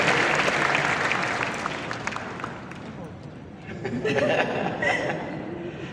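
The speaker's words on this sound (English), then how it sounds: "Let's give Candy a round of applause for doing her message there" An audience applauds a woman after she delivers a message, with loud continuous clapping and some chuckling that fades partway through, then picks up again as a voice speaks over it.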